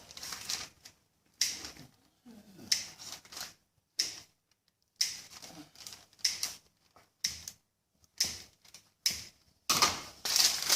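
Scissors cut sourdough bread dough with crisp snipping sounds close by, a series of short sharp cuts in irregular bursts separated by brief pauses, with no talking.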